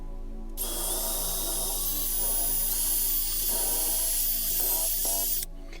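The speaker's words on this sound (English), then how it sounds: "We're going to drill a hole through the center of the dowel." A steady high-pitched power drill whine bores through a wooden dowel, running continuously for several seconds, loud and close, with slight changes in pitch as it bites, then cuts off abruptly.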